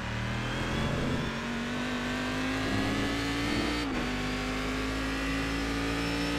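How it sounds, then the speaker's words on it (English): Race car engine holding a steady high drone through a drift at Donington during a sportscar challenge race, pitch climbing gradually then dipping briefly before settling, loud and close throughout with no talk. "Nice drift."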